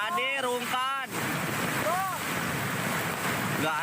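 A swift flash-flood river current roars through the Guci tourist area in Tegal, Central Java, as a loud, steady rushing wash, with voices calling out over it.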